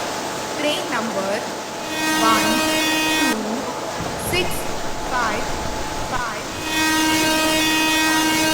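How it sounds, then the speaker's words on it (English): An Indian railway video game station scene plays a train arrival, with repeated horn blasts and rolling rail noise under a recorded platform announcement voice, steady and fairly loud throughout. "Train number 12655 Mahamana Express is arriving at platform number 4."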